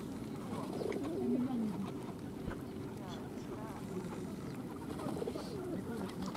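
Soft coos from pigeons gathered by an ice hole in a pond at Tsarskoye Selo in late November drift in near the start over steady wind and water noise, with faint background voices.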